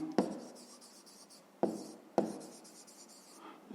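Pen or pencil writing by hand on paper, working out a fifth-grade maths answer: a few sharp strokes and taps between soft continuous scratching, close and quiet, no talking.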